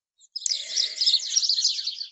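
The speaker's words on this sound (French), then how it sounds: "j'ai une bataille d'oiseaux, j'espère que ça fera pas trop de bruit. Une bataille de moineaux apparemment" Sparrows squabble in a garden, a dense, continuous burst of high chirps and twittering calls lasting a couple of seconds, fairly close and loud with no voices over it.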